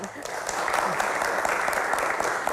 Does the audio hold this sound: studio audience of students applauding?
yes